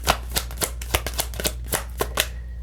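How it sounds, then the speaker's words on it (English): Tarot cards are shuffled and drawn by hand in a run of about ten crisp, papery riffles and snaps at an uneven rhythm, close and fairly clear over a low steady hum. "Let's get the rest of your cards out."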